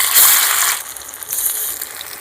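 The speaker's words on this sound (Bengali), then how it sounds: "কড়াটা গরম হয়ে গেছে, তেলটা দেখুন গরম হয়ে গেছে, আমি ওই মাংসগুলোকে ভেজে নেব" Chicken pieces for chilli chicken dropped into hot oil in a kadai, a loud bright sizzle that flares at first and then settles into steady crackling frying.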